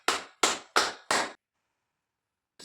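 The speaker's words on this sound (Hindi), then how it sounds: "ताली बजा के दिखाओ।" Four crisp hand claps in an even rhythm, close and sharp, followed by a pause and the start of another clap.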